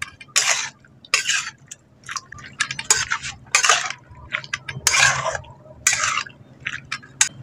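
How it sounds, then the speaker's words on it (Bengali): Taro stems are mixed with mustard oil in a bowl, giving close, wet, squelching and scraping strokes. About a dozen irregular bursts come with short pauses between them, and no one speaks. "এবার একসঙ্গে খুব ভালো করে মাখিয়ে নিচ্ছি।"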